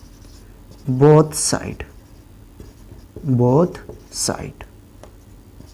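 A pen scratches across paper during a maths lesson, faint and intermittent beneath a teacher's speech.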